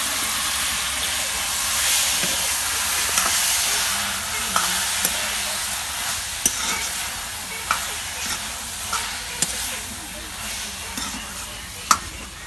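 Taro stems frying with fish in a pan, a steady broad sizzle and hiss running throughout, broken by repeated sharp scrapes and clacks of a spatula stirring, the loudest near the end.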